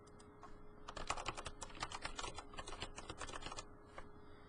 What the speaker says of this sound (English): type in your new domain name in the top box